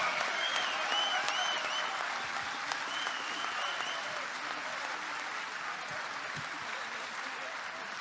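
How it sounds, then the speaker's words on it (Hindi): A large audience applauds continuously to welcome the poet Rahat Indori at a shayari recitation, giving a dense, sustained clapping that stays even from start to finish. "एक बार जोरदार तालियों के साथ स्वागत कीजिएगा"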